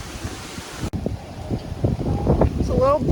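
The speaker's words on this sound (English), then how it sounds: "It's a little breezy up here." Wind gusts buffet the microphone at a breezy hilltop lookout in Sitka, Alaska, a steady rumbling rush that swells and drops, with a person talking over it.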